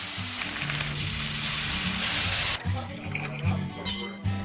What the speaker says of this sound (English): Long, sunny days, sizzling grills,